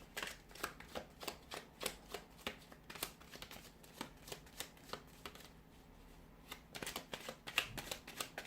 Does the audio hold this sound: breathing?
no